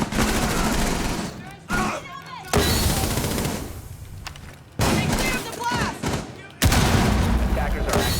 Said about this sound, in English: Gun battle going back and forth.